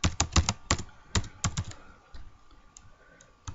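Bursts of computer keyboard typing while code is entered, quick clustered key clicks up front, then a quieter stretch with scattered taps and a final burst, close and clear.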